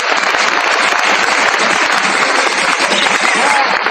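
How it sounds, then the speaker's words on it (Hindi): Loud, dense applause from a crowd at a business meeting, welcoming first-time guests, sustained and even throughout. "एक बार इनके सम्मान में जोरदार तालियां बजाएं।"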